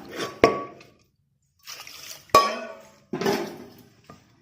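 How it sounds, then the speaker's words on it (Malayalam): Water is poured into a pressure cooker holding salted chicken pieces for a Kerala chicken stew, in three separate splashing bursts, each opening with a sharp metallic clank of vessel or utensil. "ഇതിലേക്ക് നമുക്ക് അല്പം വെള്ളം ഒഴിച്ചു കൊടുക്കാം."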